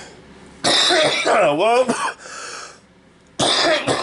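A man coughs hard and repeatedly, a harsh throaty burst followed by a strained, wheezing cough, then another bout after a pause; a brief spoken word comes between the coughs.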